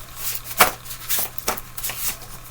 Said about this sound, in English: Let me shuffle them first